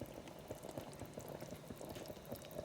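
Beef curry with potatoes simmering in a pot, a steady close bubbling and popping with fine liquid patter running throughout, no voices.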